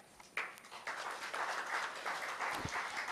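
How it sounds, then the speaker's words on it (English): An audience at a live panel dialogue breaks into applause, a soft, steady patter of many hands clapping, fairly distant and sustained throughout. "So let us all extend a warm round of applause to Friends on the Cloud for organizing this meaningful dialogue."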